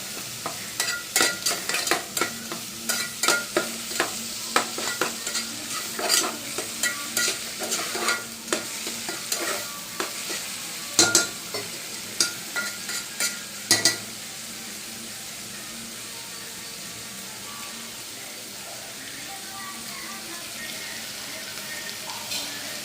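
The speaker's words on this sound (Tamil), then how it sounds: "நல்லா ஃப்ரை பண்ணிக்கோங்க." Egg curry ingredients sizzle in oil in a pan while a spoon scrapes and stirs in quick, irregular clatters for about fourteen seconds, then the steady frying hiss continues alone.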